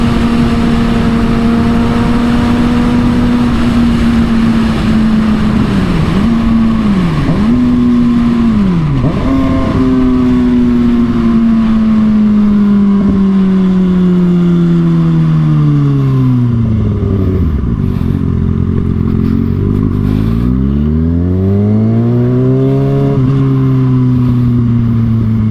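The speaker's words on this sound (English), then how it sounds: "I'm actually riding 6R after a month now" A Kawasaki ZX-6R engine drones loudly at steady revs and then rises and falls through several gear changes, heard from the rider's position with constant wind rush over the whole ride.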